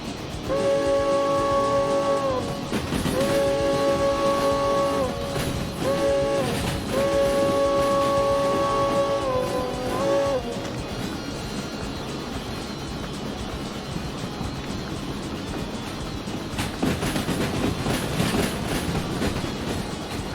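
A steam locomotive in the train game Derail Valley, running hard on heavy coal, with repeated whistle blasts in the first half over a steady rumbling chug and clatter, loud and continuous.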